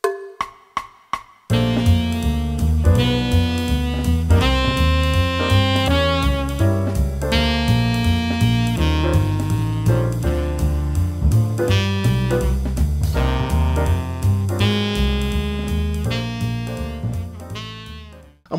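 Root movement of a jazz standard plays as a busy flow of plucked notes over moving harmony, steady and moderately loud, opening with a few isolated short attacks and closing with a sharp cut.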